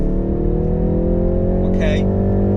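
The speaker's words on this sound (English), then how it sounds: "So let's accelerate now." A BMW G20 330e Touring plug-in hybrid accelerates with a steady, smooth engine and drivetrain drone heard from inside the cabin, building little in loudness, while someone talks over it.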